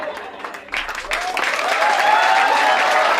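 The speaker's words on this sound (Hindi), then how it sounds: "तालियां बजी" Applause from a studio audience on a comedy talent show, a broad wash of clapping that builds and holds steady, with a tonal musical sting rising through it.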